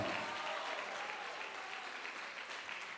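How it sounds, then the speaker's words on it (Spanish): A church congregation claps during a Christian sermon, a continuous wash of applause that stays fairly faint and distant for the whole stretch, with no talking over it. "dale fuerte ese aplauso al Señor"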